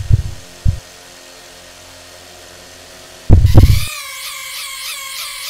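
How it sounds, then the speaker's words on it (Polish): Rapid heartbeat sound effect: two deep thumps, then a quick close cluster of heavy throbbing beats, followed by a wavering high electronic tone. "Dlatego czujesz przyspieszone bicie serca"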